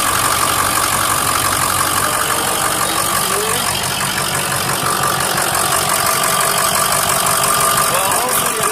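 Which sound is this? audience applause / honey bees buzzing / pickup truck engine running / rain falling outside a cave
pickup truck engine running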